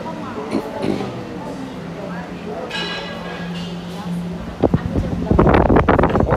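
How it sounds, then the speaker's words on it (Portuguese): Strong wind buffets a terrace during breakfast in Thailand, a steady rushing roar that swells in gusts, with people talking and exclaiming over it toward the end. "Ó, vento, meu Deus do céu"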